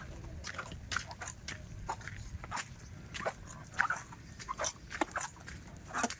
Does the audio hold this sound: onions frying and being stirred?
no